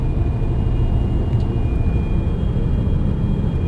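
A loaded 102k semi truck with an automatic transmission labors steadily up a snowy winter grade at low revs, a constant deep engine drone filling the cab with no pauses.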